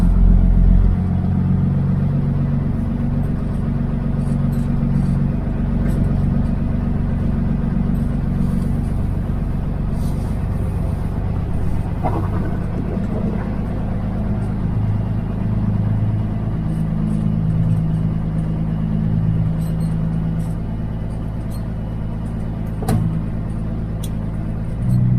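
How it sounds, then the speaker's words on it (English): A FirstClass truck drives down the road, its engine droning in a loud, steady low rumble with faint road noise throughout and no talk. "let's just go drive the truck"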